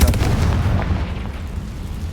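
A Confringo blasting spell exploding in the video game Hogwarts Legacy, heard as a close, heavy, rumbling blast that fills the low end and slowly decays over about two seconds.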